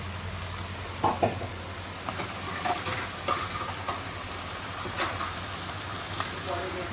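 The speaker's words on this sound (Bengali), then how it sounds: "একটু ভাজা ভাজা করবো আমি এটা" Pieces of taro sizzle steadily in a hot pan, with a few louder scrapes from stirring near the start and a voice speaking briefly over the frying.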